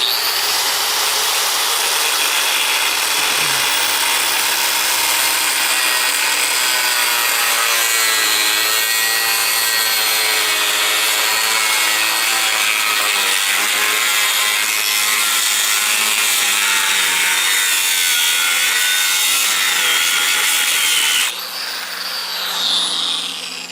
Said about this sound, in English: got the grinder, and like I said, this thing has a keyway right here, so that's where we're gonna cut it